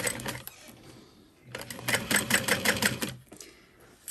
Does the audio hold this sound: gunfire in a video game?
no